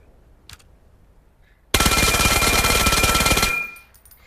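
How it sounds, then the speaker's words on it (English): An APC-9 Pro submachine gun in the VR shooter Vail fires one long, very rapid automatic burst of close, loud shots for about two seconds, then the sound trails off. A faint click comes before the burst. "The next one we got is the APC-9 Pro"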